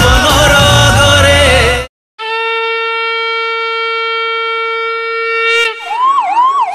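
A loud burst of mixed sound cuts out, then a steady electronic tone holds before a 108 emergency ambulance siren starts wailing up and down, close and loud, from a campaign display vehicle in Berhampur.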